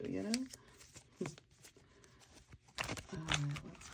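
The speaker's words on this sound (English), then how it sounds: "It's getting a little hard to shuffle" Several oracle decks mixed together being shuffled, with stiff papery riffles and slaps in uneven bursts, close by, alongside a person's voice.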